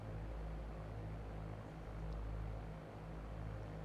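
A light aircraft flies low along the runway at Manston, its steady engine and propeller drone holding level throughout, close and continuous with no voices.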